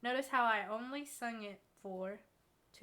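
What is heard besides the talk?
No everyday noises stand out.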